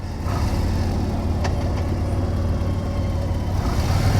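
A Harley-Davidson Ultra CVO motorcycle engine rumbles steadily while riding, a loud, constant low drone with wind noise and no speech.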